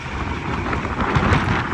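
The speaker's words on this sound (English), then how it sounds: "It is windy and cold." Cold wind buffets the microphone at a truck stop in a steady, rumbling roar, loud and close, with no voices.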